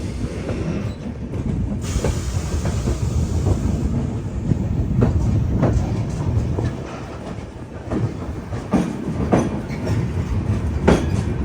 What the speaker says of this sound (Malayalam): ട്രെയിൻ ഇത് ഉധംപൂർ മാർട്ടർ ക്യാപ്റ്റൻ തുഷാർ മഹാജൻ സ്റ്റേഷനിലേക്ക് എത്തിക്കൊണ്ടിരിക്കുകയാണ്